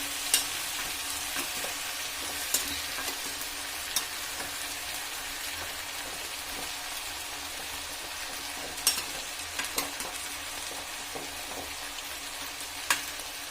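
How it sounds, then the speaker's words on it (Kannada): Bitter gourd and peanuts stirred in hot oil, a steady soft sizzle running throughout with a few sharp clicks of the spoon against the pan at irregular intervals. "ಇದನ್ನು ಚೆನ್ನಾಗಿ ಮಿಕ್ಸ್ ಮಾಡಿಕೊಂಡು ಸ್ವಲ್ಪ ಹಾಗೆ ಎಣ್ಣೆಲೆ ಬೇಯಿಸ್ಕೊಳ್ಳಿ"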